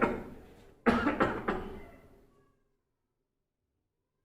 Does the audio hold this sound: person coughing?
yes